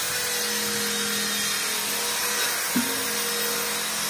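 A steady, whirring motor drone with a faint high hiss runs throughout as a wire brush spins on a drill, stripping paint and rust, with a brief knock near the end.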